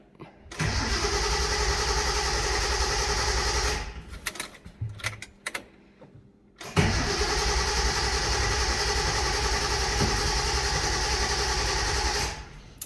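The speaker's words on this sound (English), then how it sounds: "Had to wait for the fuel to get to the rail. But she fires right up." A Datsun 260Z that has sat unused for years cranks, stalls, then fires and settles into a steady, loud idle close by.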